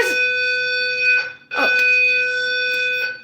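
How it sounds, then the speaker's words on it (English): A fire alarm sounds loudly and steadily, a piercing electronic tone with harmonics, pulsing in two long blasts with a brief break, close by and with no talk over it. "there's a bit of a fire alarm"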